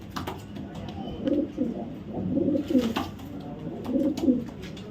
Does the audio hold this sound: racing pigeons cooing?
yes